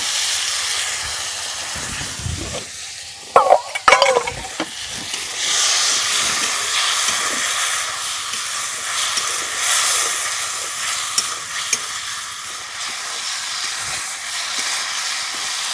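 Spice paste with salt, turmeric and a pinch of sugar sautéing in oil for a fish curry as a little water goes in, a few sharp clatters then a loud, continuous hissing sizzle close by.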